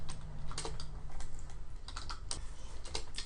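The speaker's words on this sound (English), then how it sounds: "so just type in student name." Typing on a computer keyboard, a quick, uneven run of soft key clicks and taps, close and fairly quiet, with no talking.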